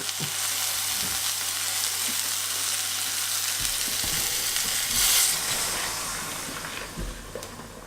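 Stock poured into a pot of frying garlic and onion, setting off a loud close sizzle and hiss. It swells in the middle and then settles into a softer bubbling fry, with a few clinks of a utensil and no talk.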